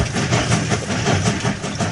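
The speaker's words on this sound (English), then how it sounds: "Oh, I think I hear another train going by." A train rumbles past with a steady, loud low-frequency roar and faint rhythmic clatter, heard alone without talk.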